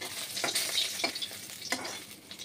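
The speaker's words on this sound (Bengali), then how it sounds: "এবার মাছগুলো ভাজা হতে থাক ততক্ষণ" Pieces of pangas fish fry in hot oil in a pan, giving a steady close sizzle with a few louder spitting bursts and stirring clatter, no voices.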